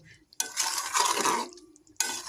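Goat mutton being sautéed in a pan for curry, with bursts of scraping and stirring against the metal that stop briefly and start again, close and moderately loud.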